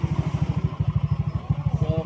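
A Yamaha Mio MXI 125 motorcycle engine fitted with a big radiator pulses in a fast, even rhythm of throaty putts, close by, with a brief hitch partway through.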